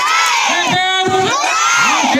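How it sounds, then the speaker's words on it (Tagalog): Schoolchildren at an elementary school opening ceremony cheer and shout loudly together as one close crowd, their voices rising and falling in repeated whoops. "Palakpak!"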